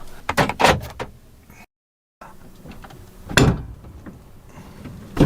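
A camper van being locked with a key fob, with clunks and thuds of doors and latches, a brief silent gap, then a sharp slam-like knock and fainter mechanical rattles nearby.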